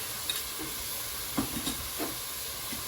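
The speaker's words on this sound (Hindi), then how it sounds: "So mix that in really well so all the flavors are combined" Chicken hot and sour soup with tomato ketchup and sauces being stirred in a pan, faint scraping strokes at an uneven pace over a soft background hiss, no voices.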